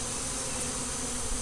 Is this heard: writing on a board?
no